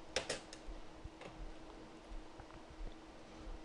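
Faint computer keyboard presses and mouse clicks during 3D tire tread modeling in Maya, a few sparse soft taps at an irregular pace under a quiet room hum.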